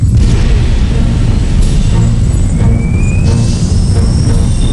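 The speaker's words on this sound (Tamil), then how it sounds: "ஃபுட் த்ரஸ்டர் 2 வை ஃபயர் பண்ணுவோம்" A cartoon robot fires its foot thruster with a loud, steady low roar and a thin rising whine across the whole stretch, and no voices.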